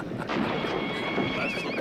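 Horses in a western film neigh loudly in a shrill whinny that rises and falls, with soft hoof clatter beneath, close and brief, with no talking.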